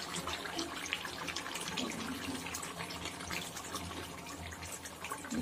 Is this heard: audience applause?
no